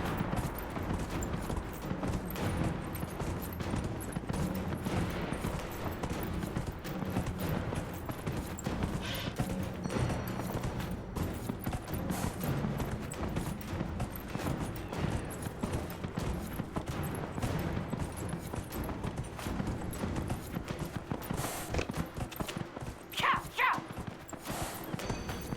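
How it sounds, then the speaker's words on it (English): Horse galloping in the video game Dragon Age Inquisition, a continuous rapid hoof clatter running throughout at moderate level with a faint whinny near the end. "But I'm racing a horse right now."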